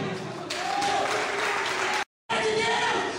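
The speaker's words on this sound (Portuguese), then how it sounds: "Aplauda o Senhor, aplauda o Senhor." Church congregation clapping during a service, a broad wash of applause with a raised voice carrying over it, cut off by a brief dropout near the end before resuming.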